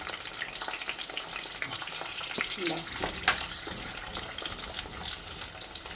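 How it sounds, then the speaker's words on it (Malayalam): Small onions (shallots) frying in oil hiss in a steady, close sizzle with scattered crackles, one brief louder burst partway through, and no talking. "ഈ ഓയിലിലേക്ക് നമുക്ക് ഈ സവാള ഇട്ട് കൊടുക്കാം. സവാള അല്ല, ചെറിയ ഉള്ളിയാണ്."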